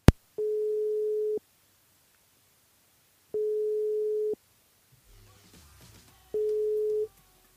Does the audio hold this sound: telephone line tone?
yes